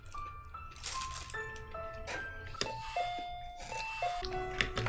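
A doorbell chimes inside a horror video game about a creepy doll: repeated ding-dong tones, bright and fairly close, scattered over a dull background hum with faint clicks.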